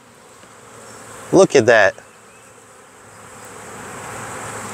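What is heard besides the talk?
bees buzzing at a hive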